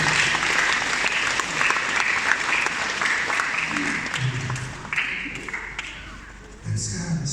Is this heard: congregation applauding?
yes